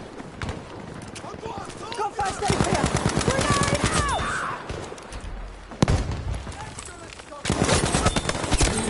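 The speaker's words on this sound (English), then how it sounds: "That grenade scared me." A grenade explosion in a video game bursts out among rapid gunfire, with a sharp loud blast near the middle and another later, while a person talks over the action.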